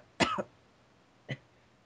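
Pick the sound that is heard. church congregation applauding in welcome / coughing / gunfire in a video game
coughing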